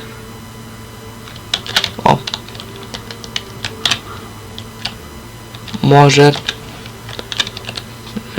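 Keys tapped on a computer keyboard that is not working well, while playing a LEGO Pirates of the Caribbean game: a few scattered clicks, then a short burst of quick keystrokes near the middle, under occasional talk.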